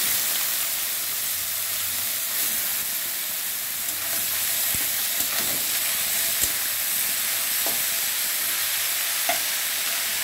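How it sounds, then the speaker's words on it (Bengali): Chopped fresh banana stem frying in oil tempered with bay leaf and radhuni, a steady close hissing sizzle with a few faint stirring clicks and no talk. "তো দেখুন, এবারে আমি থোড়টাকে দিয়ে দিচ্ছি"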